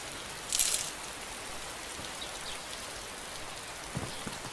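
Rain in DayZ falls steadily as a constant hiss of drops, with one brief sharp high-pitched burst near the start and a couple of faint thumps toward the end.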